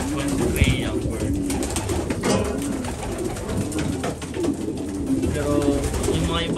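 Racing pigeons coo steadily in a colony breeding loft, a dense overlapping chorus of low throaty calls with wing flutters, while someone talks over them throughout.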